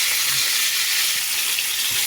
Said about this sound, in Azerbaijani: Toyuq filesini belə o izdi bu izdi qızartdıq.